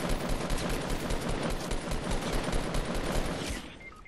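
Rapid bursts of automatic gunfire in Fortnite Battle Royale, loud and nearly continuous for a few seconds before cutting off abruptly near the end.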